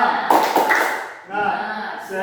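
Schoolchildren in a classroom do a short rhythmic spirit clap, a few sharp near hand claps and taps in quick bursts, with a brief pause between groups.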